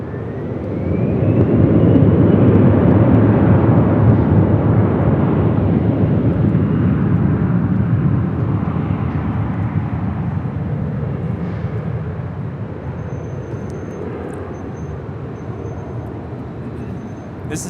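A SkyWest-operated Delta Connection Embraer E175 jet departs Los Angeles International Airport on a hot, humid day, its broad engine roar rising quickly, holding loud and close, then slowly fading as it climbs away.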